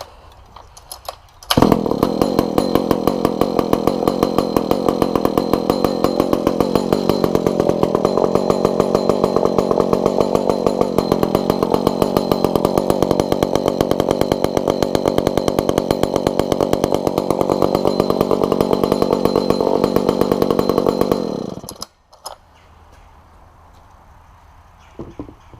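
A Pioneer 2400 chainsaw with a retrofitted primer bursts into life and runs loud and steady at a high, buzzing pitch for about twenty seconds, then cuts off abruptly into near-silence.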